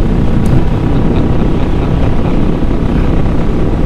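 Triumph Bobber Black motorcycle engine at full throttle on a ride around Central Florida, a loud, steady low roar with heavy wind rush that holds unbroken for about four seconds, no voices.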